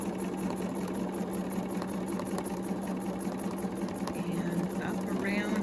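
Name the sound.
sewing machine stitching slowly along a ruler template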